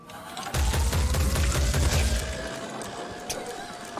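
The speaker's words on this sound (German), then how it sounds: "Das ist der Wahnsinn, wie krass man daneben ballern kann, ne?" Weapon fire in the video game Phoenix Point, a dense burst of rapid shots for about two seconds, then trailing off into scattered rumbling and faint crackles.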